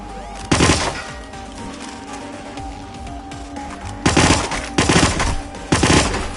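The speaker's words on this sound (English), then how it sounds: "Alpha team suppressive fire!" Machine gun suppressive fire in a Hitman game on PS4: loud separate automatic bursts, one early and three close together near the end, set against a quieter background with distant shots between them.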